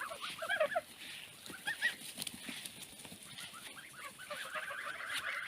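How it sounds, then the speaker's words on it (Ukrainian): Geese honk and chatter in a loose, overlapping flock, moderately close, with scattered calls rising and falling throughout. "Гусики."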